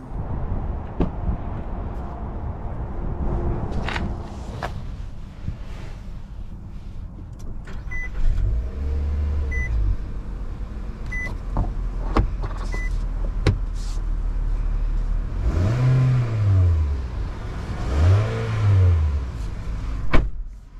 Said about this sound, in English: Let's go ahead and take this SR with the Midnight Edition package on a test drive and see how it does.